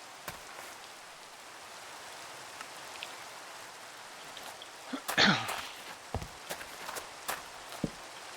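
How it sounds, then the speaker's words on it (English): Steady light rain in the Minecraft video game, a soft continuous patter with scattered sharper clicks and brief louder bursts midway. "I need to get rid of this rain"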